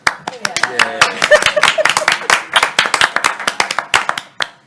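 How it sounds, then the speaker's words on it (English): Council members clap together at a budget hearing just after the meeting is adjourned, a loose burst of sharp hand claps from a small group close by, thinning to a few scattered claps, with brief talk over the start. "Oh, we should clap"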